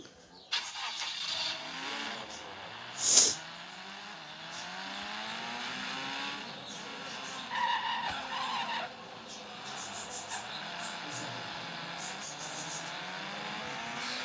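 A car in a racing video game drives and slides, its engine rising and falling in sweeping pitch as tires skid and squeal, with one sharp bright burst near the start and a steady game sound bed throughout.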